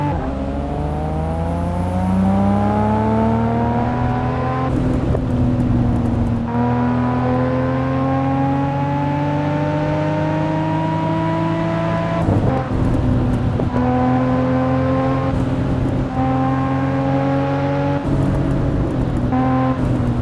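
A Toyota Supra racing on a track, its engine droning steadily and close, with the pitch climbing through each gear and dropping sharply at several upshifts, and no voices over it.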